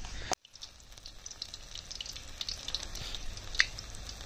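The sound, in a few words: mustard flower fritters frying in hot oil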